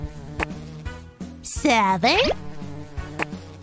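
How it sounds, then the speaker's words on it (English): Bees buzz loudly in a children's counting cartoon, a close, wavering drone that swells in the middle while a voice counts aloud around it. "The bees buzzed our number to us!"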